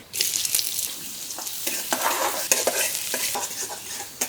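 Chopped onion fries in oil and is stirred briskly, so bright sizzling mixes with repeated scraping and clattering strokes of a spatula against the pan, close and fairly loud, with no voices.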